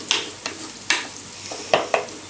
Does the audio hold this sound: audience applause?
no